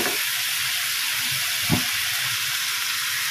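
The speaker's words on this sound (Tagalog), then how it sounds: "Ginisa na natin muna ang ating chicken sa sibuyas." Chicken sautéing with garlic and onion in a pan gives a constant broad hissing sizzle, steady and close, with one brief louder clatter partway through.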